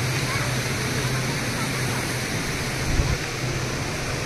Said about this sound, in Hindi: काफी ऊंचाई से बह रहा है ये वाटरफॉल।